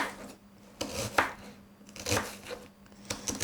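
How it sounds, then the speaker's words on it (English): Knife chopping onion on a board, a handful of crisp, uneven cuts close up and fairly quiet, with no talking. "the smaller chops that you do, the finer the pieces of onion will be"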